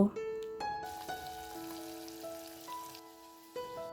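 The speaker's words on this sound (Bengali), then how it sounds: "এখন মাছটা ভেজে নিচ্ছি" Fish frying in a pan in a home kitchen, a steady, crackling sizzle that continues throughout, with sustained musical tones playing over it.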